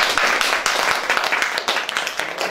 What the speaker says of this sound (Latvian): Plaukšķināšana.